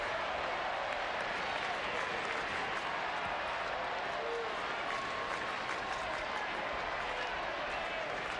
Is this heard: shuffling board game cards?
no